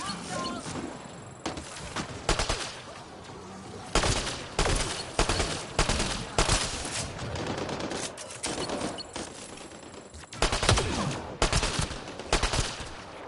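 Rifle gunfire in Mass Effect Andromeda, a DMR-style rifle rather than a sniper, cracking in clustered bursts and single shots throughout, loud and close, with brief pauses between volleys.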